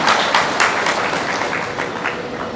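A crowd at a political workers' meeting breaks into loud, sustained applause to welcome a speaker, dense overlapping claps continuing evenly throughout at close range.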